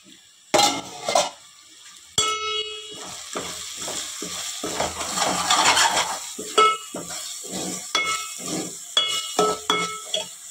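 Ginger garlic paste and tomato masala frying in oil for a fish curry sizzle while a spoon repeatedly scrapes and clanks against the pot in a close, irregular rhythm, with brief louder bursts of frying.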